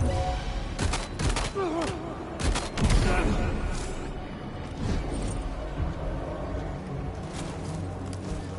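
Gunfire in the video game Death Stranding 2: bursts of rapid shots crack in clusters early on, then scattered reports continue under game sounds.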